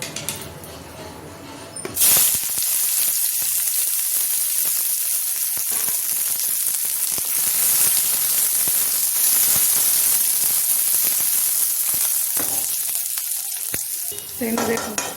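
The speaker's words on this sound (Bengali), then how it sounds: "পেঁয়াজও ভেজে নেব" Onions frying in a hot pan for a potato-and-garlic mash, a steady loud sizzle that jumps in after a quiet start and holds with faint stirring clinks until near the end.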